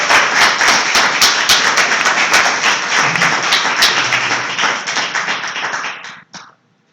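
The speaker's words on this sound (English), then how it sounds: "I'd like you to just give a round of applause, just a heartfelt round of applause for Charlie Curtis." A church congregation applauding a guest speaker at a Sunday service, dense continuous clapping from many hands, loud and close, holding steady before thinning and stopping abruptly near the end.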